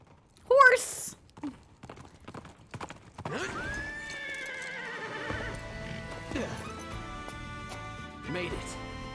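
In the Fire Emblem Engage video game a horse gives a sharp, loud neigh, and hoofbeats clop along behind it. A swelling musical tone follows and holds under the hooves.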